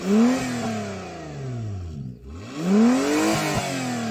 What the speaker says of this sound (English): Go on, rev up the Honda.